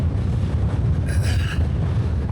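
Wind sweeps across a high mountain ridge in the High Uintas Wilderness, a steady, loud, low rumble buffeting the microphone throughout, with no voices.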